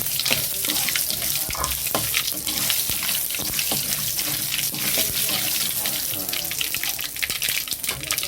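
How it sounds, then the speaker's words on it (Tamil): Mustard seeds spluttering in hot oil for a cabbage chutney, a loud, steady, dense crackle and hiss with many sharp pops, close up, without talking. "கடுகு நல்லா பொரிஞ்சுது."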